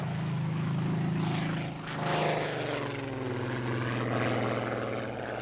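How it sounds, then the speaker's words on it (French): Loud propeller aircraft engines drone steadily, their pitch rising and falling as the engines rev, close and powerful. "Le bruit des moteurs était merveilleux."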